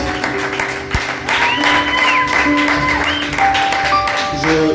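A church congregation applauds during a service, a sustained loud wash of clapping mixed with crowd voices and sustained organ or keyboard tones underneath.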